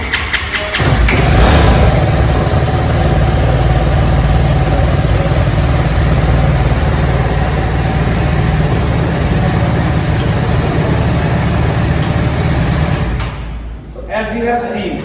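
A BMW G310R motorcycle, 2020 BS6 model, running with a steady, loud engine drone held close for most of the clip before it drops away near the end.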